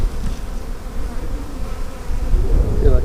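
Close, loud buzzing of honeybees at an open backyard hive during an inspection, a continuous droning swarm that grows louder toward the end, with no talking.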